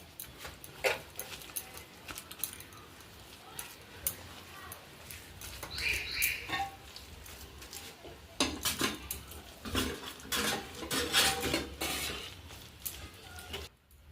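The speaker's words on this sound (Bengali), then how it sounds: "ভালো করে মাখিয়ে নিচ্ছি" Shrimp fritter batter gets mixed with oil in a bowl, producing scattered soft clinks, scrapes and wet squelches in an irregular rhythm, fairly quiet and close.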